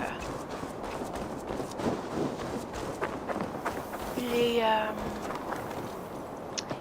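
Rhythmic horse hooves clip-clop under a busy Assassin's Creed Valhalla game soundscape, with a brief rising chime partway through.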